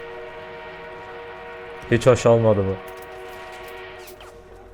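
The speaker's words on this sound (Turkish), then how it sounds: "bir de şimdi tren mi gelecek?" A train rolls in on the Amiens map in the World War I shooter Battlefield 1, its steady horn-like tone droning throughout beneath a brief burst of male speech.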